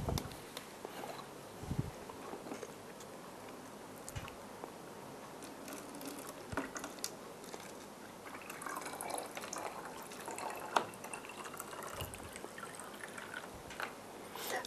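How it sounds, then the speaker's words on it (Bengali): Coloured liquid is poured into a container, giving faint trickling and dripping with a few soft knocks against a quiet background. "একটা কালার্ড লিকুইড ঢেলে দিচ্ছি। একদম ভর্তি করে দেওয়ার চেষ্টা করব।"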